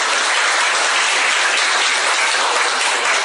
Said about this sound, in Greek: τους αξίζει ένα μεγάλο χειροκρότημα